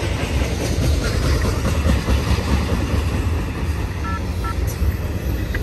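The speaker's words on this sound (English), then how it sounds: "Stacked intermodal with a bunch of, looks like containers from China." An eastbound BNSF intermodal freight train with stacked international containers rolls past at Rana in Colton, California, near Cajon Pass. The roar of the cars is loud and steady, with rhythmic wheel clatter and a faint high squeal.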